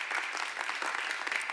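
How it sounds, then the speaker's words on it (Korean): Church congregation applause in a Baptist church in Yeouido, a short burst of fairly soft, even clapping heard from a middle distance. "우리 한번 박수 한번"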